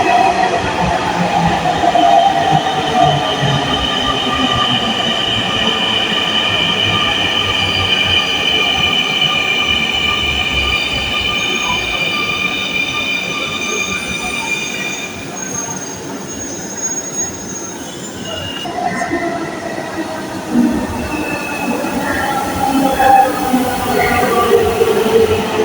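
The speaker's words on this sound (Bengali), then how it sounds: "এই যে রানিং হয়ে গেছে ট্রেন" A metro train runs on its rails, wheels squealing in long steady tones with a loud continuous rumble throughout; the squeal eases mid-clip and then rises again.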